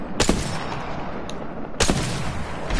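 Gunfire in the Apex Legends video game: two sharp, loud shot bursts stand out over a constant heavy backdrop of distant firing and battle noise.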